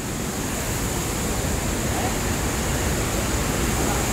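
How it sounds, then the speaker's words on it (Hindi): Large waterfall at Tirathgarh in Chhattisgarh, a constant, loud rushing hiss of falling water with no breaks or voices. "अभी यहाँ से वो वाटरफॉल दिख रहा है"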